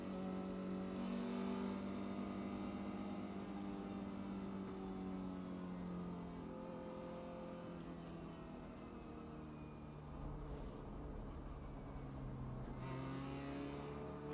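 An Audi RS3 LMS race car engine in iRacing at Road America hums steadily and climbs in pitch through the gears, with a clear, continuous tone and no voices.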